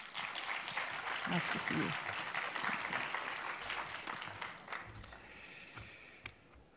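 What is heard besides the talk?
audience applause at award ceremony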